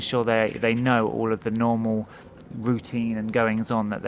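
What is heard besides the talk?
No everyday noise stands out behind the speech.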